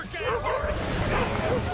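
Several dogs yip, whimper and bark in short bursts during a hurricane in the video game South of Midnight, the excited canine sounds running continuously and close over a steady storm roar.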